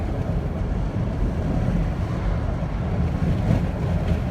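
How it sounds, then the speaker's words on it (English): Steady, dusty roadside wind buffets and roars across the microphone, a continuous loud rushing noise with no voices. "It's just a tad bit windy out here, a little dusty"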